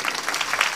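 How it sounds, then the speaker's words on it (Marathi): Brief burst of audience clapping at a Marathi kirtan gathering, moderately loud, with scattered individual claps in a loose, steady patter. "टाळ्या वाजवा ना जोरदार"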